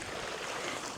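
Fast-flowing water of the small River Arrow rushes in a faint, steady broadband wash for about a second, without voices.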